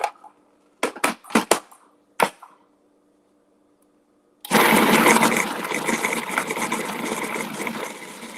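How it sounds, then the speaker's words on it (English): A food processor blending protein cookie dough, starting after a few sharp knocks and a pause, then running loud and steady, close up, with no talk. "you don't hear the horrible sound of my food processor"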